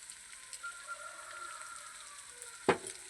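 Ghee drops into an aubergine and potato curry in a pan, raising a steady close sizzle and crackle with one sharp clatter near the end.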